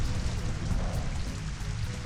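Steady rain from the Rain Dance move in Pokémon Colosseum patters on a surface, a soft, even hiss of drops with no voices.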